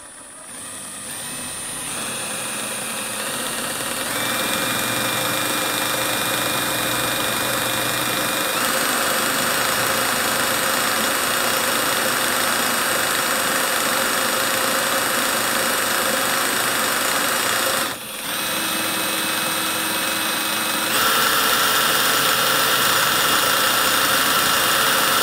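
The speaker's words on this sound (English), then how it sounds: "I just so happen to have a quarter by 20 fastener that could use a nice countersinking." A Milwaukee drill with a countersink bit cuts into an oiled quarter-by-20 steel fastener, a loud, steady, close motor drone with a brief dip partway through and a slightly higher pitch near the end.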